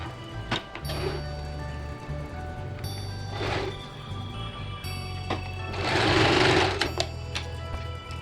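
Sewing machine stitching gathered puff sleeves on fabric: short runs of rapid mechanical clatter, with a longer, louder burst near the end, close by and alone.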